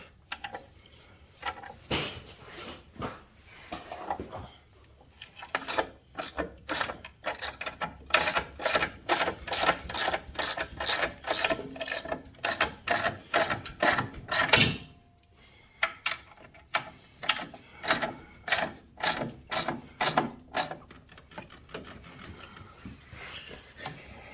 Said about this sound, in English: you pull the bike and just start cranking, and it sits nice and solid on there